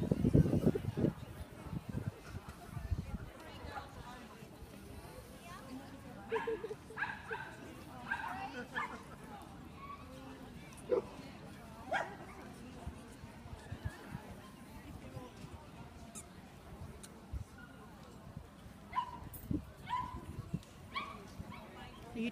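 Standard poodles at a dog show, Australian bred class, give faint yips, whimpers and occasional barks in a scattered rhythm amid a busy indoor crowd, with people talking nearby.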